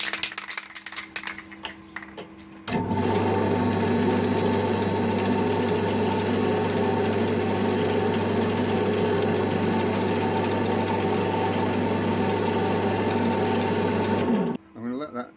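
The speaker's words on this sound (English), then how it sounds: "I'll just do it with the lathe spinning" Wood lathe spinning at low speed while sanding sealer is sprayed into a sculptural hollow wooden vessel, a steady loud motor hum with a hissing spray layered over it, starting abruptly and cutting off near the end.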